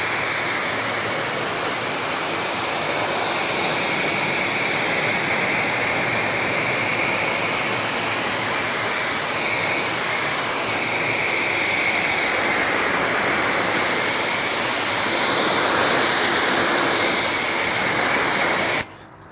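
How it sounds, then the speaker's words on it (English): A hose sprays water over a car with a graphene ceramic coating, a loud, steady, close hiss of spray that keeps going almost the whole time before cutting off abruptly at the end. "Let me just rinse this off."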